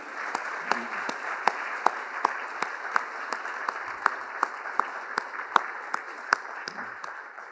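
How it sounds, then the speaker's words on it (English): A small group at a civic engagement forum applauds, sparse claps ringing out in a loose steady patter, moderately near and fairly quiet. "stand up for another round of applause so everyone can see you."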